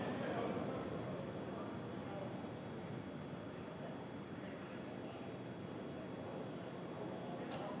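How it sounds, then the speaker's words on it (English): SpaceX Falcon 9 first-stage Merlin engines throttling down during the Crew Dragon Demo-2 launch: a steady, dense broadband roar that holds at an even level for about eight seconds, with no voices. "We heard we're throttling down the Merlin engines on the first stage."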